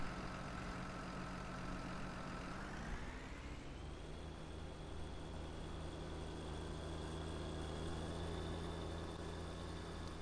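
A small Case International tractor idles in Farming Simulator 19: a steady, loud, even engine drone with no talk, its tone shifting upward a few seconds in and then holding constant.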